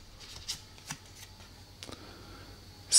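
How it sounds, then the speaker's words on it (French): A card drawn from an event deck in the Astroforce dice board game, with a few soft quick paper swishes and slides close by, followed by a sharper rustle at the end. "Donc on tire une carte event."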